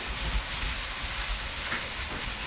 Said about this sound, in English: I'm going to saute. I'm going to throw that spinach in.